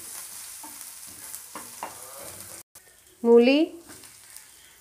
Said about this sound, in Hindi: अब हम इसमें डालेंगे अदरक और हरी मिर्ची। इनको थोड़ा सा भून लेंगे।